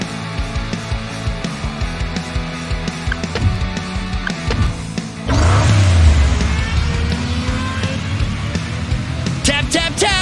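Race car engine in the Hot Wheels Unlimited mobile racing game, a loud, continuous electronic car roar that swells into a revving surge midway. Game sound effects and music run underneath the whole time.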